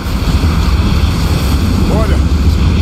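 Strong mountain wind in the video game Rise of the Tomb Raider, a loud, steady, gusting roar that fills the whole stretch without a break.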